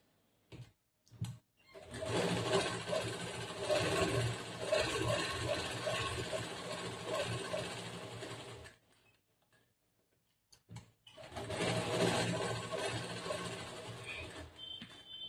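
A sewing machine stitches a blouse collar in two steady runs of rapid mechanical clatter, the first about seven seconds long and the second shorter, separated by a brief quiet pause with a few clicks.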